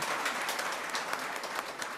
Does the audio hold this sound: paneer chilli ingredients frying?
no